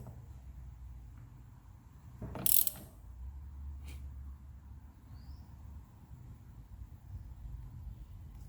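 A ratchet clicks briefly at mid-clip while tightening the fitting on a carbon fiber steering wheel during installation, a short burst of close mechanical clatter over a quiet background.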